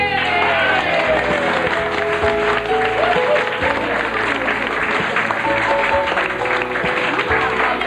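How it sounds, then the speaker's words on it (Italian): A crowd at a vintage car hill-climb awards ceremony near Cagliari breaks into sustained, dense applause for the women, loud and continuous throughout, with a voice speaking over the clapping. "Un grosso applauso alle donne!"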